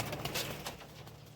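Pigeons, including young birds, coo softly in a home loft in a brief, close burst of low calls.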